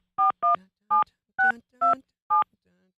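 Six short electronic dialing tones beep at an even pace from a banana-shaped toy telephone, each a clear, loud two-tone chirp, followed by a faint quiet tail.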